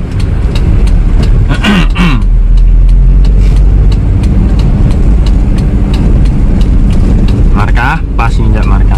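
A 2002 Toyota Kijang LGX with a 2.0 EFI engine drives along after a shift into third, its steady engine drone filling the cabin while a person talks over it.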